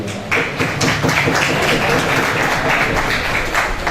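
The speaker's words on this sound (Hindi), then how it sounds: "आप तमाम दोस्तों की भरपूर तालियों में" At a poetry gathering, a mushaira in Layyah, Pakistan, the audience claps to welcome the chief guest: a loud, continuous wash of many hands close by, with some low rumble underneath.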